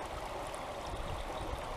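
A park stream flowing steadily, a close, continuous burbling and rushing of water with no voices.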